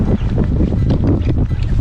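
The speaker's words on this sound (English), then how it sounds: "A little windy." Steady wind roars and buffets outdoors beside a river below a mountain lake on a chilly winter day, a loud, constant rush with no talk.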